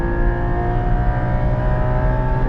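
A Porsche naturally aspirated flat-six engine at full throttle on a track, a loud, steady, close-up droning roar with strong harmonic tones and no talk.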